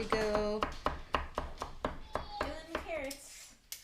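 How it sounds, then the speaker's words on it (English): A knife chopping garlic finely on a board, a steady series of close, sharp taps at an even pace, with a voice and other talk briefly over the cutting. "Chopping up the garlic nice and fine so it's ready to go."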